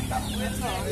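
Chickens at a busy live-poultry fair in Palmeira dos Índios, Alagoas, cluck in a dense, crowded din, mixed with the murmur of buyers and sellers talking nearby.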